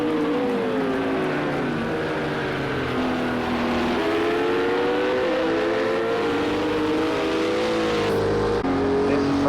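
Audi GT3 race cars in a sprint race at Oulton Park International speed past with sustained engine drone and shifting pitch, loud and close throughout, the roar swelling and changing as the cars pass.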